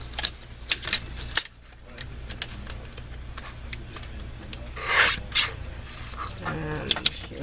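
Card paper sliding and clicking through a paper trimmer during scrap-card making, a run of sharp close ticks and scrapes with a louder swishing cut near the end, a voice talking over it.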